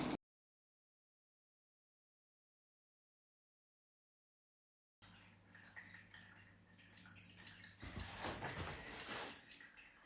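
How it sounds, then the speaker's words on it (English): A Ninja Prestige Dualbrew CFN802UK coffee machine gives three short, evenly spaced electronic beeps to mark the end of brewing, after a stretch of silence and faint background noise. "There's your 3 beeps to finish ending."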